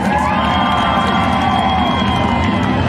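A speedway crowd at an evening race night cheers and shouts together, a loud, dense and continuous roar of many voices with whoops rising out of it.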